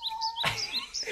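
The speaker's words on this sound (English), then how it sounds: "You can hear the birds." Birds chirp and tweet outdoors on a quiet mountain trail: repeated bright, high calls near and far, with a brief rustling burst midway and no talking.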